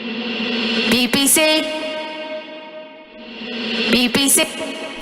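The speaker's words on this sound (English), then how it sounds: "All that noise is essentially a reverb that's reversed." A reversed reverb swell rises out of silence and snaps into a spoken station ident, then the wash builds again into a second spoken hit, all processed, echoey and loud.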